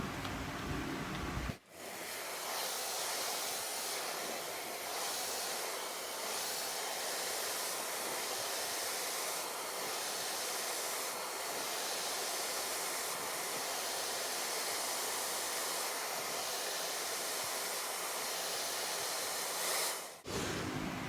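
A hair dryer on medium heat blows steadily while hair is brushed straight, a constant close whooshing hiss that cuts out briefly near the start and again near the end.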